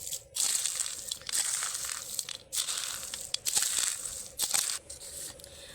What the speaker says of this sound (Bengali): আমি একটু চামচ দিয়ে মাখিয়ে নেব মশলাটা